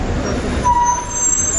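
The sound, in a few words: Mumbai–Sangameshwar bus arriving with air brakes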